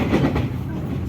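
A Motis economy passenger train runs between Jatinegara and Pasar Senen stations in Jakarta, heard from inside as a steady, close rumble and clatter of wheels on rails.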